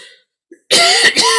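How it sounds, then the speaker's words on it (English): A single person clears their throat and coughs, loud and close, breaking off a spoken talk; a brief faint sound precedes the burst. "Ever since I've had COVID, I get this cough."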